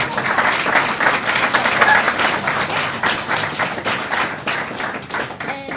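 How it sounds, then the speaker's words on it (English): A school board meeting audience breaks into a big round of applause, dense steady clapping from a full room that stays loud throughout, with a few brief taps near the end. "Let's give them all a big round of"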